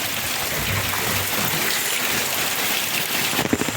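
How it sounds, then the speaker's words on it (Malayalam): Heavy rain pours steadily over a tapioca farm, a dense continuous hiss of drops with a brief louder spattering patter near the end. "ഓക്കെ, നല്ല മഴയുണ്ട് ഇവിടെ"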